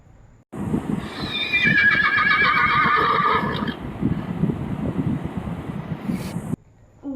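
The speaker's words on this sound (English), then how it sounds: "Horse, घोड़ा." A horse gives one loud, close whinny with a rising, quavering pitch, followed by snorting, breathy rumbling and faint hoof sounds before it cuts off.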